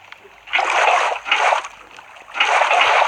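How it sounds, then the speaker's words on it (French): Water is poured from a bucket while building a medieval house in a block-building video game, producing three bursts of splashing, one short and two longer, with quiet gaps between them. "Vous remplissez tout de seau d'eau."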